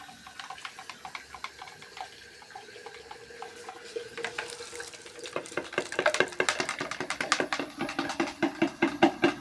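Water running from an outdoor pipe tap near a house, starting as a quiet trickle and growing into a louder, splashing, irregular patter as it fills a container, with no talking.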